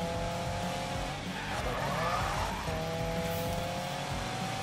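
A car in the Need for Speed video game drifts with the e-brake pulled, its engine droning steadily while the tires squeal in a long, loud skid through the middle before the engine note settles again.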